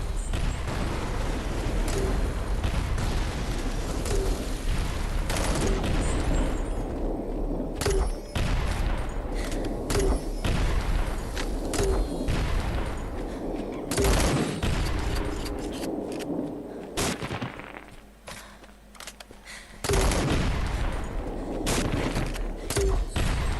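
Repeated gunshots and bursts of fire ring out in the video game PK Apocalypse, loud sharp cracks spaced every couple of seconds over a busy, noisy background with a quieter lull near the end.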